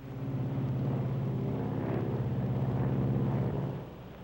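Airplane engines droning in flight in 1953, a steady, loud, tonal hum with a low throbbing beat that holds evenly, then eases slightly near the end, with no talk.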